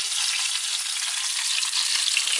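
Loud, steady sizzling of onions frying in a pan, a dense hiss with no talking.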